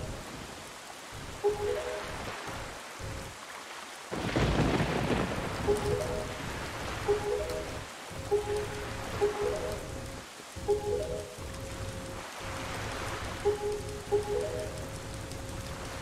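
Steady rain patters on surfaces in The Legend of Zelda: The Wind Waker, with a louder surge partway through. Short musical game tones repeat over the downpour.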